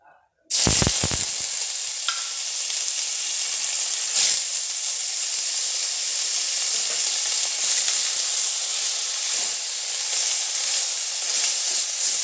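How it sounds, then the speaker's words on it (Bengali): Sidol, a fermented fish, dropped into hot oil for chutney, bursting into a loud, steady frying sizzle after a brief crackling start, sustained close up with occasional stirring scrapes. "তেলটা আমার গরম হয়ে গেছে, আমি এবার শীদলগুলো দিয়ে দিচ্ছি"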